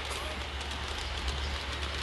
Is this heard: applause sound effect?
no